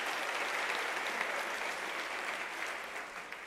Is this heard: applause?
yes